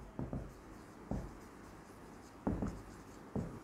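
Marker strokes on a classroom board, four or five brief scratchy bursts spaced irregularly against a quiet room, faint and with no speech over them.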